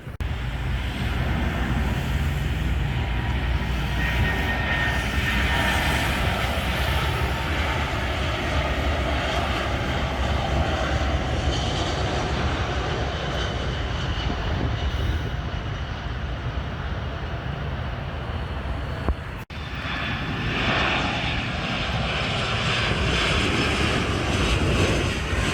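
A passenger jet lands and taxis at Montreal's airport, a steady, loud engine roar and rushing wind noise holding for about 25 seconds, with a brief thump near the end and no talking.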